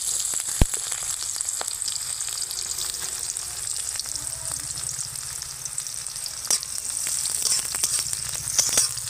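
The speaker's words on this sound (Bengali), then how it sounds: "পেঁয়াজগুলোকে ভেজে নিচ্ছি" Chopped onions and green chillies fry in oil in a pan with a continuous close sizzle, broken by occasional sharp clicks and scrapes of stirring.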